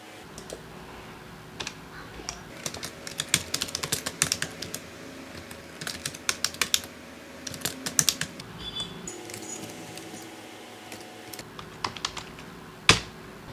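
Quick, light clicks of a computer keyboard as student data is typed into a Microsoft Excel spreadsheet, irregular bursts of keystrokes, fairly faint and close, with no talk.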